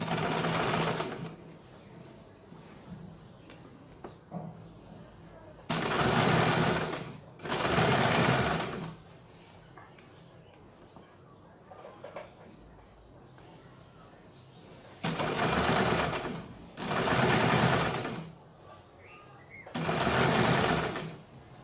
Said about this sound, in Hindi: अभी यहाँ पे हमें इसके ऊपर डबल सिलाई लगानी है।